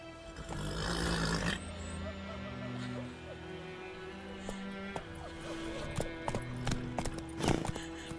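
Roach, the horse in The Witcher 3, gallops with rhythmic hoofbeats alongside game ambience and a voice speaking.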